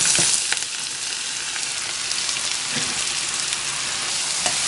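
Onion fries in oil in a pan for Egyptian koshari, giving a dense, continuous close-up sizzle with faint stirring scrapes and no voices.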